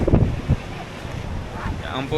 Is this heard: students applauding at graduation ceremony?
no